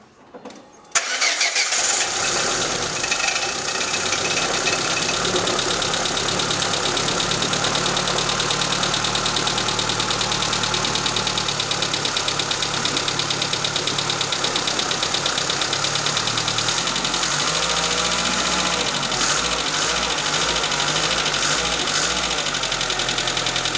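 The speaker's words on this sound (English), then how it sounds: "the tappets are way out because they're rattling like mad" A car engine is started, then settles into a loud, continuous idle close by, with a whining drive belt on the power steering pump and tappets rattling hard, heard alone throughout.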